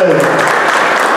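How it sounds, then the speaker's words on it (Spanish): A crowd applauds at a baseball team's rookie-hazing event as a new player is introduced. The clapping is dense, loud and continuous, filling the whole brief moment with no pauses. "el aplauso"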